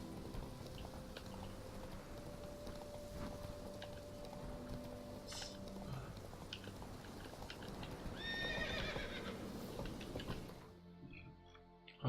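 A horse in The Witcher 3 video game trots with steady, faint hoof clopping, then gives a short whinny near the end before the sound cuts off abruptly.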